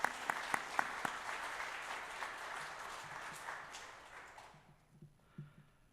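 A church congregation applauds the choir at a Korean revival meeting, a dense burst of clapping with a few sharp claps that carries on and then fades out near the end.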